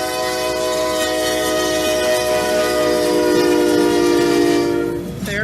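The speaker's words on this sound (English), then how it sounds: "There it is, leading NS 507, an empty coal train." Norfolk Southern SD80MAC diesel locomotive leading an empty coal train of hoppers, its horn blaring steadily and loudly with rich sustained chords over rumbling wheels, fading slightly near the end.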